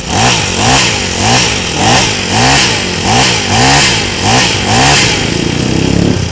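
A Honda lawn mower engine on the repair bench revs up and down repeatedly with the throttle pressed, about seven rhythmic surges over a steady idle, loud and close with no talk.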